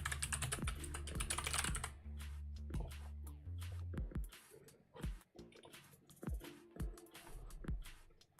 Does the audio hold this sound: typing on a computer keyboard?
yes